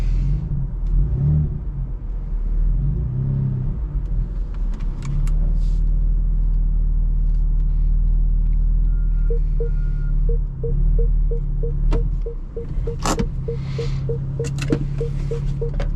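A BMW M4 sits in a parking spot, its engine idling with a deep, steady low rumble close by, rising briefly in a couple of light revs, while faint clicks tick in the last few seconds.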